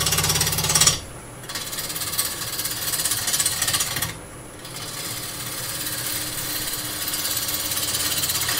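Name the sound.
wood lathe turning a plate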